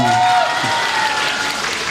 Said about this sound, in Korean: 박수 칠러 크게 치세요.